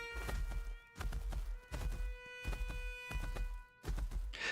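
Horse hoofbeats from the Ashes of Creation game, a steady run of clip-clop thuds in quick bursts with brief pauses, fairly close, with a tonal game hum underneath and no talking.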